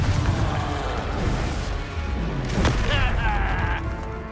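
Confringo fire spell bursts in the Hogwarts Legacy video game, a loud booming blast with crackling impacts and a rising whoosh over a dense battle mix of spell effects.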